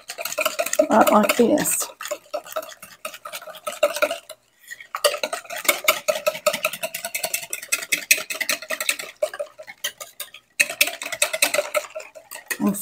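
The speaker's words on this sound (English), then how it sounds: "use this little baby whisk here to whisk this milk and egg and garlic all together." A small whisk beating milk, egg and garlic together for garlic cheese grits, rapid rhythmic clinking against the bowl in bursts with short pauses; a voice speaks briefly.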